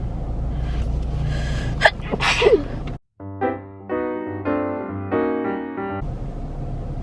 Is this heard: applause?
no